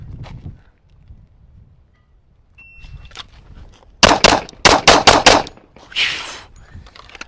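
A Kimber Warrior 1911 .45 pistol fires a rapid string of about six loud, close gunshots outdoors, followed by a brief metallic clatter, after a stretch of quiet wind noise.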